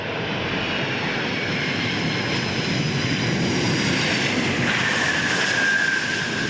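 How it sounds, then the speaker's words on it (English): A six-engine Antonov cargo plane touches down at Perth airport, its loud, steady jet roar filling the whole stretch with broadband engine noise and a rising whine near the end. "this is the first time the Antonov has landed in Australia"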